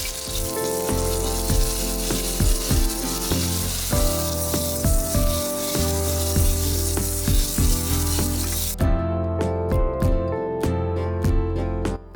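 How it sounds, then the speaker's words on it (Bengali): Diced brinjal fries in mustard oil in a wok, giving a steady, fairly loud sizzle under a rhythmic instrumental music track with percussive beats throughout. "কড়াইতে পরিমাণ মতো সর্ষের তেলে ডুমো ডুমো করে কেটে রাখা বেগুনগুলো দিয়ে দেব।"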